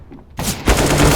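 Desert Eagle pistol fire during a Counter-Strike match: a sudden loud crack followed by a second heavy shot and dense ringing gunfire filling the rest of the moment, close and aggressive.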